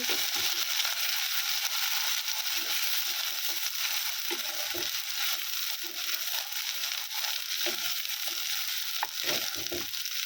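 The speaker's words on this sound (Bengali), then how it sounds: "এখন পেঁয়াজটাকে লাল লাল করে ভেজে নেব" Sliced onion fries in plenty of oil with bay leaf, giving a steady close sizzle broken by light scrapes and stirring clicks, and there is no talk.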